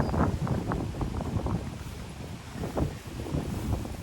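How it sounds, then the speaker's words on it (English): Strong outdoor wind buffeting an unprotected microphone, a loud continuous low rumble with gusty surges and rough bursts throughout, no voices over it. "This is how windy it is. This is what it sounds like without the lapel mic."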